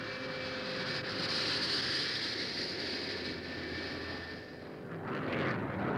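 An airplane flies past with a steady, loud engine roar and hiss that swells and fades slightly over several seconds, filling the scene without talk.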